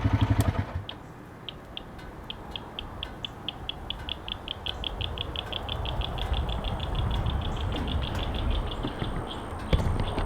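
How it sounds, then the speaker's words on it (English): Small frogs chirp in a steady run of short, evenly spaced high pips across a quiet outdoor ranch spot by a fishing area, with low rumbling background noise underneath. "Hear the little frogs chirping."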